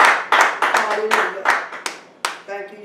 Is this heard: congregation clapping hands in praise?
yes